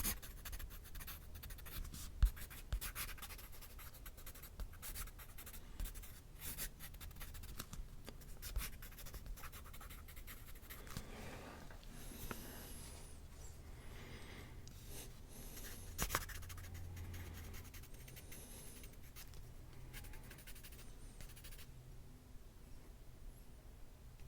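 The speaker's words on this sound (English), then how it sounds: "Can you guys hear this pencil on the paper?" Pencil scratching across paper, close and continuous, with scattered strokes and taps in a quiet room and no talk.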